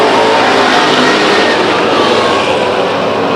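Loud, dense roar of race car engines at Stockton 99 Speedway as cars drive hard into a turn, continuous and close, with no voices.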